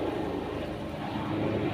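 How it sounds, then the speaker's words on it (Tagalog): A helicopter passing overhead, a steady broad engine rumble that stays loud and constant throughout, with no voices. "may helicopter na dumaan"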